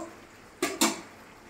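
A metal spoon knocks twice against a pot while chicken curry is stirred, two quick sharp clinks a fraction of a second apart over a faint background.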